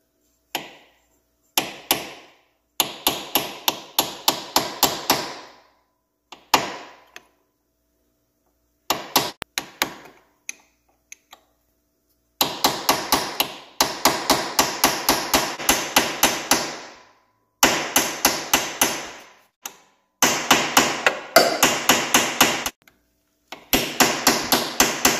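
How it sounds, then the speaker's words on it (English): Hammer tapping a stuck bolt on a Big Bear ATV front differential to break it loose: many close, sharp metallic blows in rapid rhythmic bursts with short pauses between runs. "I can kind of tap it to break it loose"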